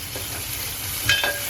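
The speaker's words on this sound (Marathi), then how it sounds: "आता त्याच्यामध्ये मी टमाटर टाकते. बी केअरफुल, फक्त तेल उडतं अंगावर." Tomatoes tossed into hot oil over golden-brown onions for a prawn masala curry, a constant close sizzle with a couple of brief sharper spits and crackles as the oil splatters.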